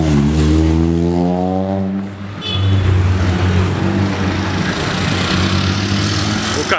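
Porsche 911 Carrera T passing on a street car-spotting evening, its engine note rising then dropping away before a second rough, loud engine roar fills the rest of the scene.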